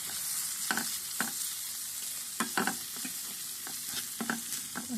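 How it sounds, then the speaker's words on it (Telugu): Ginger garlic paste fries in a pan for a curry, a soft steady sizzle cut by irregular scraping stirs, near and moderately quiet. "అల్లం వెల్లిగడ్డ పేస్ట్ వేసేయండి. పేస్ట్ వేసి బాగా కలుపుకోండి"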